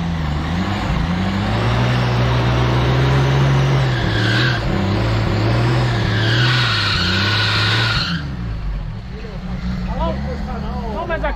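An off-road car climbing a muddy trail in the rain, its engine revving hard and rising and falling in pitch as the tyres spin and slip. Loud and close, with voices mixed in.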